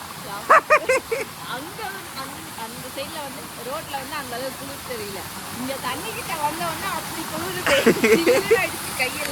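Small waterfall near a temple in a cool hill area, a steady close rushing and splashing of water, with someone talking over it throughout.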